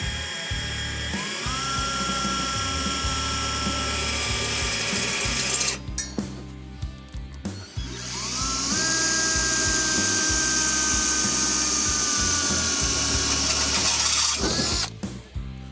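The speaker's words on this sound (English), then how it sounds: "Now we'll move this out of the way so we can access it and get our holes drilled." A power drill whines through metal, boring holes for battery mounting brackets in an off-grid overlanding truck. It runs in two long loud bursts with clunks and handling noise between them, and nobody talks.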